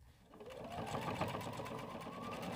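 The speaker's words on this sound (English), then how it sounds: "step to our sewing machine and do an 1/8 inch top stitch around all four" Sewing machine running a 1/8 inch top stitch along a fabric strap: a faint, continuous rapid mechanical whir and clatter that rises slightly and holds steady throughout.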